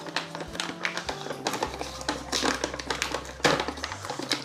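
A plastic bag of aquarium pebbles is tugged open with crinkling, tearing and tapping sounds in irregular bursts, close and fairly loud, and no talking over it.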